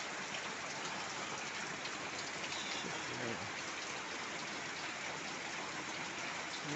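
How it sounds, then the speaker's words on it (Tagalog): Steady, dense rainfall pours down throughout, a constant wash of drops on surfaces with no pauses and no other sounds standing out. "Ulan na ulan."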